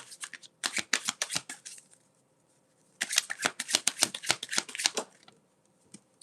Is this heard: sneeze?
no